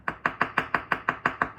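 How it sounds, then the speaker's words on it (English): Knife slicing scallions on a cutting board: ten steady, evenly spaced crisp chops in under two seconds, close and clear with no talking. "So we are going to slice our scallions."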